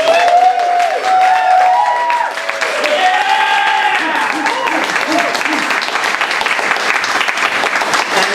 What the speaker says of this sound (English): So big round of applause for the whole.